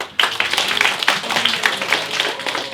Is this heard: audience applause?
yes